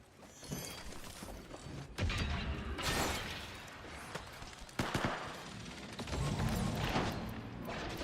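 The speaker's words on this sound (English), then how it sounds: "The enemies are shooting at me." Enemy gunfire rattles in a ranked video game match, with bursts of automatic shots, mechanical clanks and sharp impact sounds mixed with game effects, loud and continuous.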